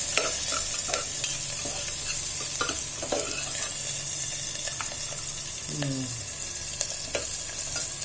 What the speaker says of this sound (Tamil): தக்காளியும் போடுறோம் பொடிசாக அப்படி அறுதிட்டு நல்லா வதக்கணும்